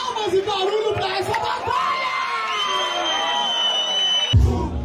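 A rap battle crowd erupts in loud cheering, whooping and shouting, a sustained roar of many voices close by that holds for several seconds before a sharp burst of noise at the end.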